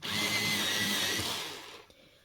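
Colored pencils being sharpened in a sharpener give a steady whirring grind close to the listener for nearly two seconds, then it stops.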